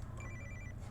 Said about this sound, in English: Someone's phone keeps going off.